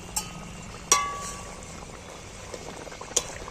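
Egg curry gravy simmering in a pan, giving a steady soft bubbling with a couple of sharp metallic clinks from a lid or utensil.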